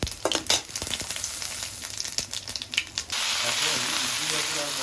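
Cumin seeds hit hot oil in a pan with a burst of sizzling and crackling, then a steady loud frying hiss settles in over the last seconds.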